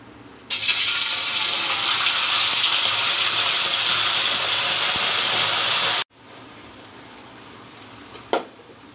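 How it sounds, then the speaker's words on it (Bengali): Tomato sauce hits hot oil with a sudden loud, dense sizzling hiss that holds steady for about five seconds before cutting off abruptly, leaving a faint quiet background and one sharp click. "এই তেলের মধ্যে দিয়ে দিচ্ছি আমি টমেটো সস।"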